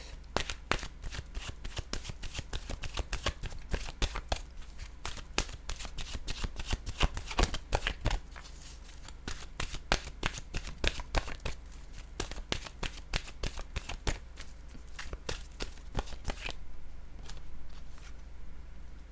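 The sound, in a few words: shuffling oracle cards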